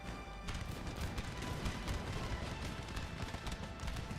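Massed musket volleys from line infantry firing at will in an Empire: Total War battle for Constantinople, a continuous rolling crackle of distant and near shots with booms underneath, no talking.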